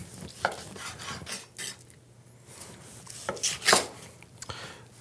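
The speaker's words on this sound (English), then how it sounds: "I'm going to cut myself a couple of nice slices" A knife cuts slices from a rested roast pork loin, a series of soft, close sawing and scraping strokes against a board, with brief pauses between cuts.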